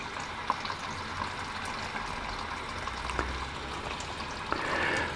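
Water from a faucet runs steadily into a Panda XPB36 portable washer, a continuous hissing pour with a few faint clicks and knocks and no talking.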